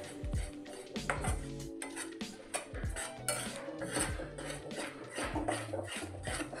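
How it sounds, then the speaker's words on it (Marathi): A spoon stirs a sugar syrup mixture for karadant in a pan on low heat, making repeated clinks and scrapes against the metal in an uneven rhythm, close and clear. "सतत हलवत राहायचं आहे।"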